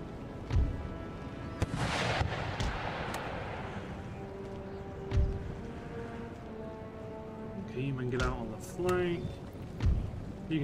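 Artillery fire in the video game Empire Total War: three deep, heavy booms land a few seconds apart, with a voice talking in between.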